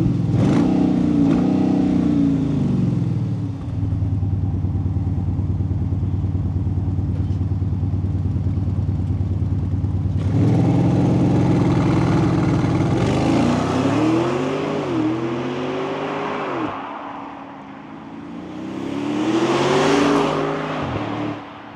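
A 2023 Audi SQ7 with an ABT-tuned 640 hp V8 TFSI engine revs loudly and close by, its deep pitch climbing and falling through several bursts with short idle dips between them.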